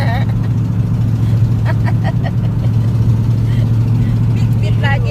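A car driving home from work, heard from inside as a steady low engine and road drone throughout, with faint voices over it.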